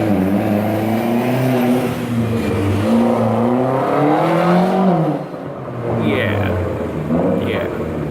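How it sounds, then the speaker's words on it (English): A car passing by on the road, its rumbling engine tone rising and then fading, loud and close before quieting briefly near the end. "sorry, I was waiting for that car"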